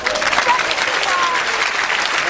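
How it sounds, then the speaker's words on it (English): Loud, sustained applause from a crowd, dense steady clapping filling the whole stretch without a break. "Give her a round of applause."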